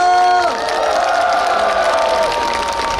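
An outdoor festival crowd cheers and applauds for a singer, with loud whoops and clapping that start strong and fade slightly, along with shouting voices and a sustained tone underneath.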